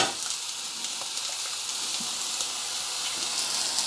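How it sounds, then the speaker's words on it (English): An egg sizzles and fries in a Ninja frying pan, a bright steady crackling hiss with small pops, close and fairly loud, no talking. "Now I'm just going to crack an egg in here"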